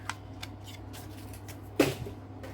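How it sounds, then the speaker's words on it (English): A tab punch snaps through folded card stock in one sharp, crisp clunk, preceded and followed by light paper handling rustles and small clicks in a quiet room. "I use my tab punch to make the tab, like so."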